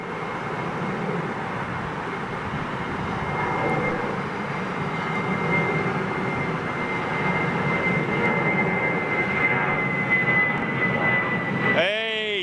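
A large jet airliner coming in to land roars steadily at a distance, a broad rumbling engine drone that holds throughout, with a rising whine near the end.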